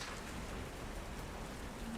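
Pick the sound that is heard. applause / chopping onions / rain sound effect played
rain sound effect played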